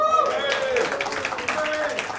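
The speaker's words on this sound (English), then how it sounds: "Round of applause if you say Bombay" Audience at a stand-up comedy show claps in response to a show-of-hands question, a moderate patter of applause running under a voice talking over it.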